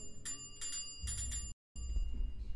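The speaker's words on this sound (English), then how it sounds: "Does it have a bell? I think so." A bicycle bell rings in several quick bursts of bright, metallic trills, fairly close and moderately loud, broken by a short silent gap.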